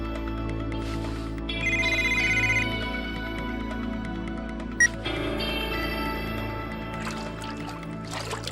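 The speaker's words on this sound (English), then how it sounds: "How can my phone be ringing here?" A mobile phone ringtone plays a melodic repeating tune over a droning, humming background in an anime scene, rising briefly louder before fading into the ambience.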